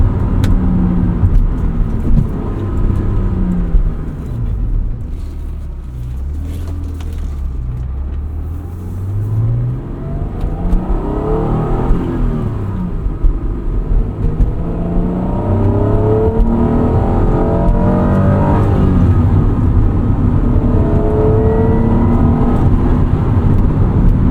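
A 1996 Acura NSX-T with a 5-speed manual accelerating on the road, engine pitch sweeping up and down through gears with a loud close rumbling drone and tire hum, no talking.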